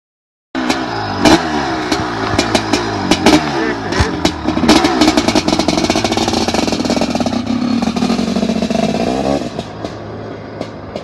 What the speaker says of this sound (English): And I'll even show you his bike running now.